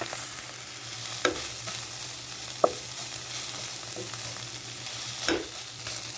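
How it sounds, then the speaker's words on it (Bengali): Minced farm-chicken keema fries in a pan over a medium flame with a soft, steady sizzle, broken by a few sharp spatula scrapes and taps as it is stirred. "এই যে একটু ভাজা ভাজা করে নিলেই চলে।"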